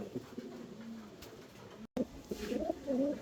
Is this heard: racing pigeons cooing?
yes